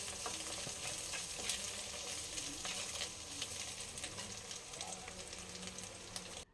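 Ingredients for eggplant hilsa being stirred and fried with salt in a pan, a continuous sizzle with scraping stirring strokes, close and fairly quiet.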